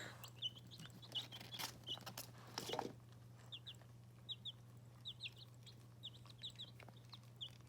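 Chickens in a backyard orchard give repeated short, soft clucks and chirps at irregular intervals over a steady low hum, with a brief rustling scuffle near the start.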